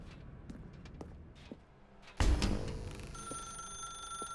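Telephone ringing in The Stanley Parable video game, a sudden ring bursting in after quiet footsteps in a dark room, then a steady electronic tone continuing alone.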